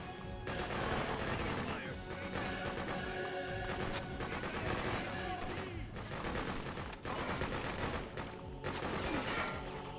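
Dense, continuous gunfire and battle noise from the video game Freedom Fighters, loud and sustained throughout with overlapping shots, while voices talk over it.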